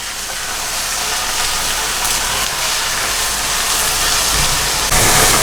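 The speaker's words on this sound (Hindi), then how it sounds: "अब हम कीमे को अच्छे तरीके से भून लेते हैं।" Minced meat roasting in a pan for khara masala keema, a steady loud sizzle and hiss with frying crackle throughout, no talking.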